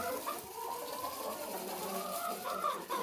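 Farmyard hens cluck and murmur together in the morning at a homestead coop, with the soft chatter continuing steadily at close range and some background rustle.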